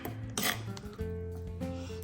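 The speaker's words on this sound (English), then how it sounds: "let's just do a little bit of pounding" A salsa mixture being pounded, with a few close clanks and clinks of a hard utensil against a bowl, alternating with brief ringing tones.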